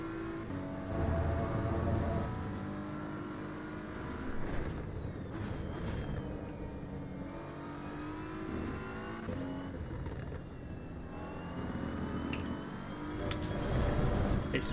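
A GT3 race car in the AC EVO sim racing game runs steadily and loudly throughout, its engine note rising and falling through gear changes and braking as it rotates through a corner and slows in the gravel, with no talk.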